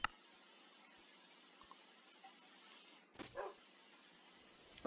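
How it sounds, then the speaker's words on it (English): A single short dog bark from the video game RLCraft sounds over a low, steady background hum, with a few faint clicks around it. "I hear a dog."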